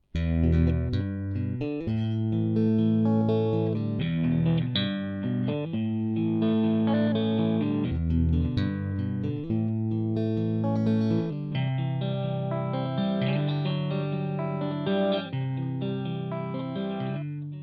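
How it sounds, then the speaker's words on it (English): An electric guitar part plays continuously, first as a thin, dry direct signal and then through an amplifier with added drive and sustain, sounding full and loud with no voices. "The following is a guitar track that goes straight into the PC versus the same signal through an"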